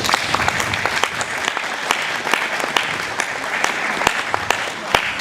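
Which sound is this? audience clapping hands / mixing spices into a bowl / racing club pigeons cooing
audience clapping hands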